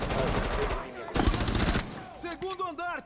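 Rapid automatic gunfire bursts loudly in the Rainbow Six Siege video game, a dense rattling stream of shots followed by a second burst, with a voice speaking over the end.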